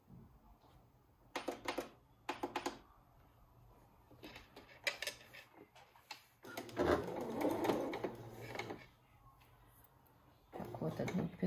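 Sewing machine on a regular straight stitch attaching a feather to fabric for a feather Christmas-tree decoration, in several short bursts of rapid mechanical stitching separated by pauses, with handling noise between runs.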